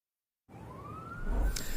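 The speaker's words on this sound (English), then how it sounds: "we're still hearing sirens" Police sirens wailing at a hostage scene after an officer was shot, the tone rising and swelling in loudness over steady background rumble.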